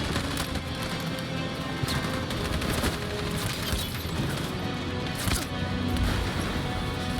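Sustained covering gunfire from the Detroit Become Human video game, dense rapid bursts of shots rattling continuously and loudly, with occasional heavier booms standing out over the barrage.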